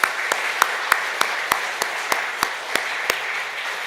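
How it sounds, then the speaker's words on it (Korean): A congregation at a Holy Week special prayer meeting in a church claps together in a steady, evenly spaced rhythm, sharp hand claps ringing out over a full wash of applause. "함께 서로 박수하도록 하겠습니다."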